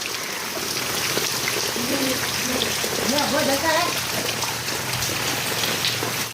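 Steady, heavy monsoon rain hisses continuously in Prantij, with a voice speaking faintly beneath the downpour.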